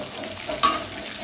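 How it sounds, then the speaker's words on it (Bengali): Snakehead fish pieces fry lightly in hot oil, a continuous close sizzle with one sharp spatula clink partway through. "তো গাইজ আমি মাছ ভাজছি, হয়েই গেছে, হালকা হালকা করে ভাজবো।"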